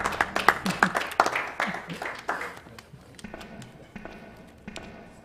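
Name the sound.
audience clapping at speedrun event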